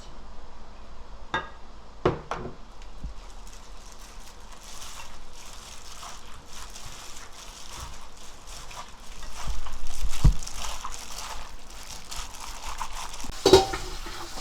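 Boiled Korean bracken fern stir-fried in sesame oil in a pan, a soft continuous sizzle with scattered scraping stirs and occasional clinks of a utensil against the pan.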